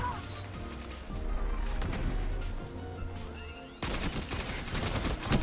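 Rapid submachine gun bursts from the Gambit SMG in a Destiny 2 player-versus-player match, dense crackling volleys with impacts running throughout, a sharp louder burst partway through, no talk over it.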